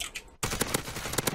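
Rapid automatic gunfire in a video game, a close, loud burst of evenly spaced shots starting abruptly after a brief quieter moment, with no talking.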